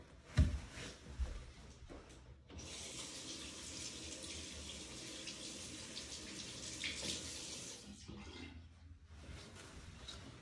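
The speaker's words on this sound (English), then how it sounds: "I'm just gonna go to the sink here and wash this part." Water runs from a sink tap as a Fluidmaster toilet flush part is rinsed under it, a steady hiss of flowing water with a few clunks at the start and brief breaks near the end.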